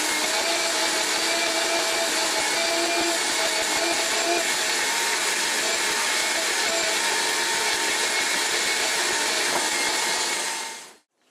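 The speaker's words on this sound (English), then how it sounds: "I'm going to vacuum it first" A vacuum cleaner runs steadily on recliner upholstery, a loud continuous motor whine with broadband suction noise that holds for about ten seconds before cutting off at the end.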